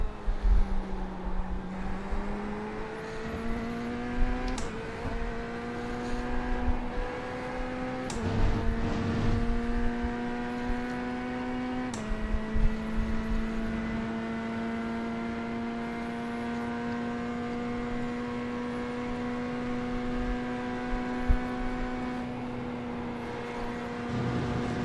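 A Corvette GT3 race car engine in the sim racing game iRacing: a steady, droning engine note that rises and falls gently through gear and throttle changes, with a few brief shifts and clicks, heard alone.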